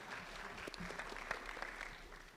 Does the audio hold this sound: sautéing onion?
no